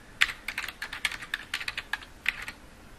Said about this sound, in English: we can simply click once in the search bar, type in our keywords